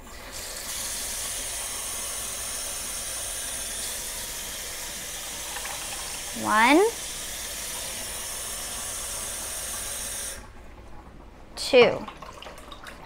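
Water is poured steadily into a pani puri mixture in a kitchen, making a continuous hiss for about ten seconds that then stops. A voice counts briefly during the pour.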